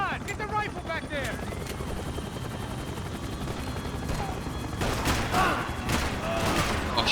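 Helicopter rotor drone in the video game Max Payne, a steady broadband whir running throughout with gunfire bursts and game sounds layered over it, and a voice briefly heard at the start.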